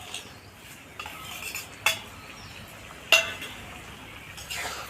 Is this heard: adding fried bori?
yes